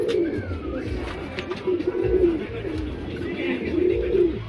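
Two makshi pigeons, a breeding pair, coo in repeated low rolling phrases close by, with a faint chirp and light background noise between calls.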